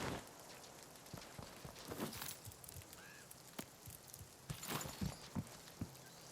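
Rain falling in the video game RuneScape: Dragonwilds, a steady soft patter with scattered sharper drops and a few light knocks, moderately faint throughout with no talking.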